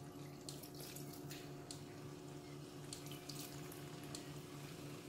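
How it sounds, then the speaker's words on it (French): Water trickles and splashes steadily at close range as it is sprinkled over basmati rice in a pot, a soft continuous hiss with small irregular droplet sounds over a faint background hum. "je vais asperger mon riz"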